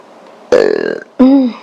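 Two loud, close burps in quick succession, the first rough and rattling, the second shorter and smoother, from a person during a tarot reading session.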